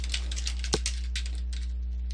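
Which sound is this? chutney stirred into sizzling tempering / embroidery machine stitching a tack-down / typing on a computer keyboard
typing on a computer keyboard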